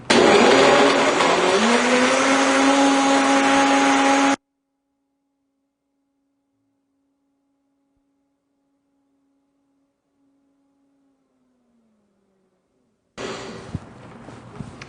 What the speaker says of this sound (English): Traditional smoothie, mixed nice and smooth in the blender as typical.